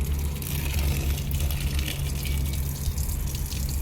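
A garden hose pours water onto plants in a small home garden, a steady continuous gushing flow heard up close over a low, constant hum, with no one talking.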